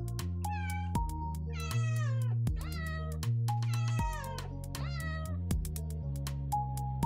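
Cats meowing in a video game: a rapid run of overlapping meows and rising yowls over a steady, looping musical drone, with sharp clicks marking a regular beat.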